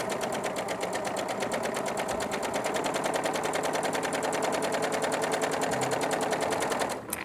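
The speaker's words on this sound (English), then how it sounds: "So I will start sewing." A sewing machine runs steadily at speed, stitching scrappy quilt fabric pieces with a rapid, even needle rhythm close up, then stops abruptly near the end.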